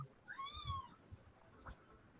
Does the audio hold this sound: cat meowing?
yes